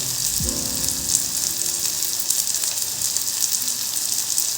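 Turmeric dropped into a hot frying pan, with the oil sizzling in a steady, close crackle from start to finish while a few brief tonal scrapes show near the start. Nobody speaks.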